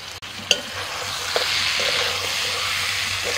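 Chopped onion, tomato and green chilies hit a hot pan of spiced fish roe, giving a sudden splash then a steady, close, loud sizzle of frying.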